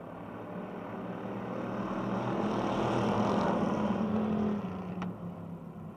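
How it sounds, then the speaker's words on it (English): Race cars in a heat race at Motordrome Speedway drone past as a swelling, blended engine roar that builds to a peak and then eases slightly, heard from some distance. "First of 2 Yellow Book Charger preliminary heat races underway."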